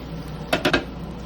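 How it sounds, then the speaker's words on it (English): Cooked chilies being spooned into a container for chilaquiles, heard as two or three close, soft clinks and scrapes of a spoon against the vessel over quiet room noise. "So just start spooning these guys in."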